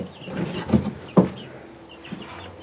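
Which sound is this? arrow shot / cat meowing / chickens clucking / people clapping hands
chickens clucking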